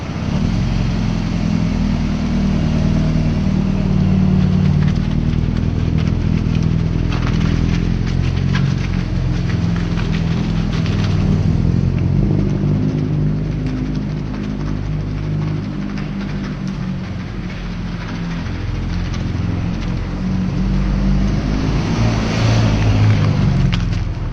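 A Nissan 240SX coupe's engine runs steadily for the whole stretch, a loud, close, continuous rumble that swells slightly with light revving and then settles back, with no talking over it.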